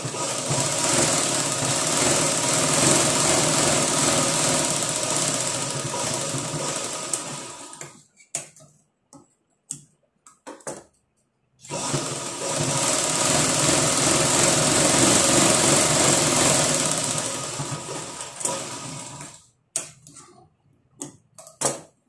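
An electric sewing machine stitches a blouse in two long, loud continuous runs of about eight seconds each, separated by a quiet pause with soft handling clicks.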